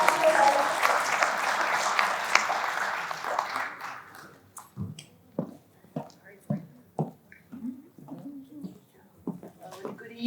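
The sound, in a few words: audience applause at retirement party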